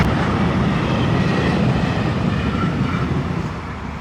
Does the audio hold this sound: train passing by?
yes